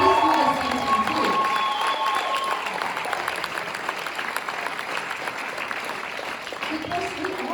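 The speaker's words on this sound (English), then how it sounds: "give yourself a big round of applause" Audience applause at a speech event, a dense and sustained wash of clapping mixed with crowd noise and scattered voices, loud from start to finish.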